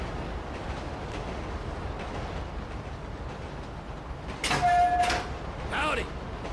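A train rolls along in the game GTA 5, a steady low rumble throughout with a brief louder clatter of wagons near the end, no voices over it.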